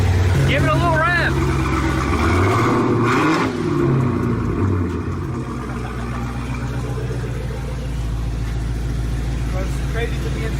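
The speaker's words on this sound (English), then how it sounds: "Give it a little rev." A 1000-horsepower Jeep Trackhawk engine revs loudly and close, its drone rising and falling through a single long rev, while people talk over it.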